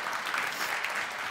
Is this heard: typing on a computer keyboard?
no